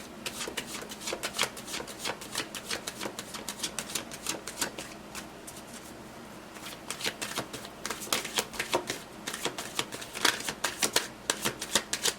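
Tarot cards being shuffled and flipped, a dense run of crisp snapping, riffling card sounds in quick bursts, close and fairly loud, with a short lull midway and no talking.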